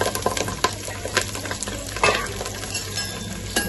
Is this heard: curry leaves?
yes